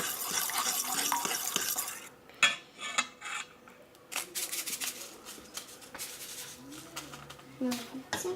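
A spoon scrapes and stirs banana cupcake batter in a bowl, making uneven clinks and rasping strokes that arrive in bursts, and a voice speaks between the strokes.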